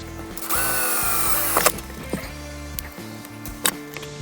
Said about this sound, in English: I gotta drill these holes.